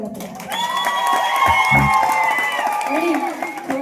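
Audience applause and cheering with whoops after a Shakti-Tura folk song performance, a crowd clapping and shouting steadily for a few seconds with voices mixed in.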